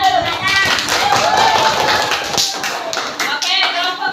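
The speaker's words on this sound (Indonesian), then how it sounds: "Nah, tepuk tangan dulu untuk kelompok menang." Children in a classroom applaud a winning group, dense steady clapping filling the room at close range while voices talk over it.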